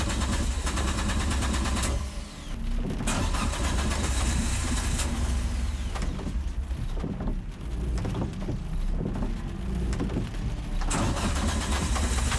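A Mitjet race car at Magny-Cours in stormy, wet conditions cranks and turns over, a loud, continuous engine roar filling the whole stretch with a few brief dips and no talk.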